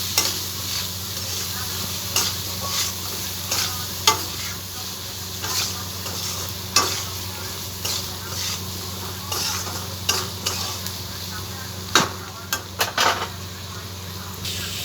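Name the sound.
sautéing spice paste with cumin in a pan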